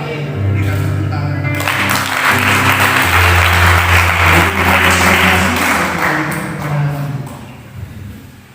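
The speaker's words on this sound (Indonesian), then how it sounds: "Berikan tepuk tangan." Church congregation applauding during a Christian sermon service, a steady wash of clapping that builds and holds loud for several seconds over sustained low tones, likely music, before easing off.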